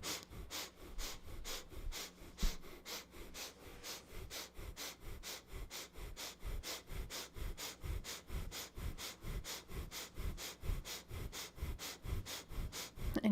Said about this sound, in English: And begin your breath of fire.